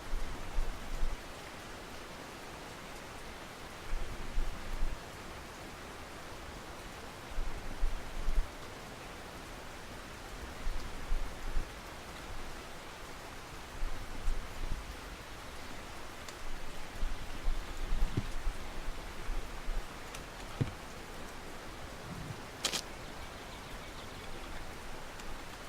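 Steady rain hisses over a lake in Russian Fishing 4, with soft low thumps recurring every few seconds and occasional faint clicks, and no talking heard.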